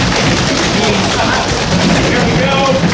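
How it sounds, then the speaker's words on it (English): An audience drums their hands on surfaces at a comedy show, building a dense, continuous rattling roll that stays loud and steady throughout. "I need a drum roll, please."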